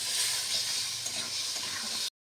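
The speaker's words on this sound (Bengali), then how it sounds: "এবার মশলাটা একটু কষিয়ে নেব।" Spice paste of garlic, ginger and tomato sautéing in a hot pan for a crab dish, a steady close sizzle and crackle that runs evenly for about two seconds, then stops abruptly.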